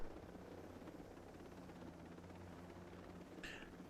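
Helicopter flying in the video game Ghost Recon Breakpoint, a steady droning rotor hum held throughout, with a brief higher-pitched blip near the end.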